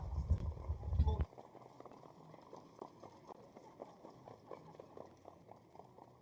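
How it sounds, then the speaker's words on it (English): Harness racing horses galloping past at a county fair track, a brief loud rush close by giving way to a steady, fainter rhythm of hoofbeats on the dirt lane. "Shonda and Just Believe as they race through the lane."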